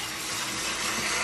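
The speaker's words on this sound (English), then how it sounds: "Here's my quick rinse." Rice gets a quick rinse under running water for a steamer, a steady, close hiss of gushing water lasting just over a second.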